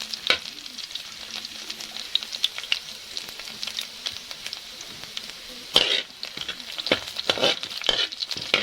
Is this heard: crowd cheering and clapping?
no